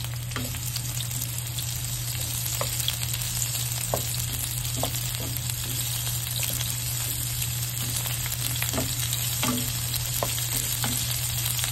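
Garlic frying in a pan, a steady close sizzle running throughout with scattered soft pops and a faint low hum underneath, no voices.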